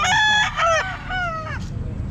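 Rooster at a Bocaue pet market crows one loud, close cock-a-doodle-doo with rising and falling harmonic notes, followed by a brief short call and faint background market noise.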